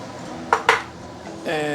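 Two quick metallic clinks of utensils against a plate ring out as Malaysian fried noodles are dished up, followed by a soft scrape, close and brief.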